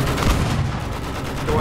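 Gunfire in Battlefield 1 during an open beta match, a dense wash of shots and battle noise that is loud and continuous across a short stretch.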